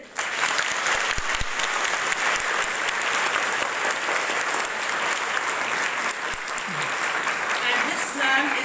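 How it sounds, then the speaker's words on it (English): A school morning assembly audience applauds continuously, a dense sustained clapping from a crowd with a few distinct nearer claps, with voices faintly mixed in. "we can clap for them"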